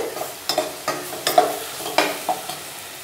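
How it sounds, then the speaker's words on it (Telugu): A spoon stirs cabbage fry with garlic chili powder in a pan, several distinct scraping strokes at an uneven pace over a soft, steady sizzle, close and fairly quiet. "వెల్లుల్లి కారాన్ని దాంట్లో వేసి బాగా కలుపుకోవాలి."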